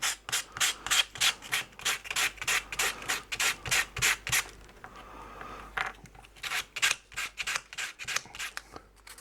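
A wooden UGEARS clock model piece is sanded by hand in quick back-and-forth strokes, a close, dry rubbing rasp repeating in a steady rhythm with a brief pause midway.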